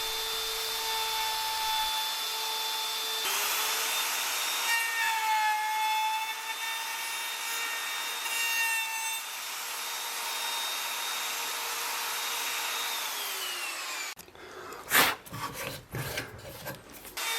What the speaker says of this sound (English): I'll generally do 2 or 3 passes with the router, gradually getting deeper and deeper